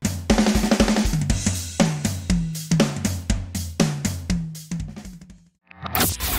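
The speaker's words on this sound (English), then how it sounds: "It goes boom boom boom when you hit the drums like this." A rock-and-roll drum set struck in a steady, driving pattern, with punchy kick thumps and bright cymbal and snare hits repeating loudly for several seconds before a brief gap and another crash.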